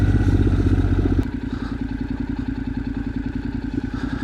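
A motorcycle engine idles close by at Radalj lake, a steady low throbbing pulse that drops to a slightly lighter rhythmic chug partway through.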